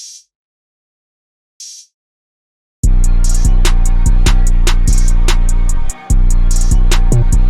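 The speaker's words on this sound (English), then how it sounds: "Then we also have the identical hi-hat coming in, which is just the Lex hat." A Lex hi-hat sample in a trap beat: two lone, crisp hat hits, then a steady rapid hi-hat pattern riding loudly over heavy booming bass and kicks.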